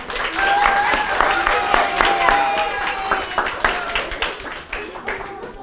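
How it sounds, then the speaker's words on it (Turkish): Applause from a school audience at a middle-school drama performance, steady broadband clapping that fills the stretch and thins toward the end, with voices and cheering mixed in. "Alkışlıyoruz arkadaşımızı"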